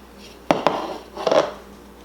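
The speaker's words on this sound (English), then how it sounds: "So we just dump this in, spread it out evenly" Cookie dough pie filling dumped and spread into a ridged-edge tart pan, with a few sharp scraping clinks of utensil against pan, two quick taps followed by a short cluster of scrapes, close and clear over quiet room tone.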